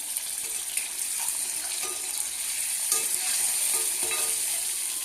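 Eggs frying on low heat for an egg curry, a steady broadband sizzle and crackle with faint stirring scrapes, close and continuous with no talk.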